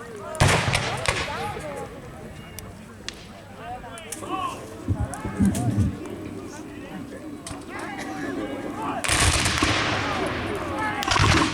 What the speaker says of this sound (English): It shoots the rifle.